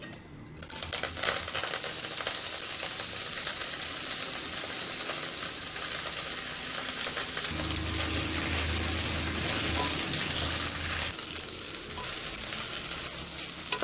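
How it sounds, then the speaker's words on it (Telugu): Coriander leaves frying in hot oil in a pan, a steady, loud sizzle that runs almost the whole time, with stirring scrapes and a brief, quieter break near the end before the hiss resumes. "ఇప్పుడు అదే ఆయిల్లో మనము కొత్తిమీరని వేసుకొని ఫ్రై చేసుకోవాలి"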